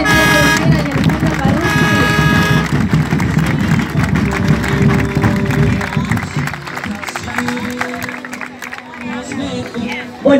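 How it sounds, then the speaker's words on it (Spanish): A large crowd claps and cheers loudly, with whistles and shouts mixed in, the applause continuing steadily before gradually thinning out. "Las vamos a recibir con un fuerte aplauso a María Chiquera y a Alejandra"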